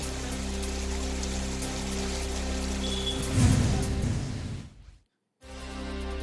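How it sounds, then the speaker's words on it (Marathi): Steady rain falls in Chhatrapati Sambhajinagar after an eight-day dry spell, a dense even patter with a brief louder gust of drops before the sound cuts out for a moment and resumes. "छत्रपती संभाजीनगरमध्ये 8 दिवसांच्या विश्रांतीनंतर पावसाची हजेरी"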